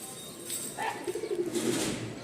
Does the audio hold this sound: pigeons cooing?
yes